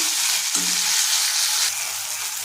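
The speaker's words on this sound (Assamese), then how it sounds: "এতিয়া বিলাহীখিনি অলপমান গলাই ল'ম" Chopped tomatoes fry in a pan for an eel fish curry, giving a loud, continuous sizzle with a few soft stirring scrapes near the start.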